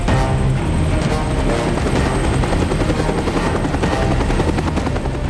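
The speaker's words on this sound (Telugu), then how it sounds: "ఏదో హెలికాప్టర్ ఇక్కడికి వస్తుంది అనుకుంటున్నాను." A helicopter's rotor and engine roar steadily and loudly for the whole stretch, a dense, even thrum with no voices over it.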